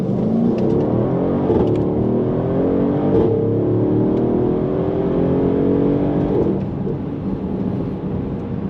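A Mercedes-Benz GLS 63 AMG pulls away hard from a standstill, its loud engine note climbing in pitch through a steady, continuous surge.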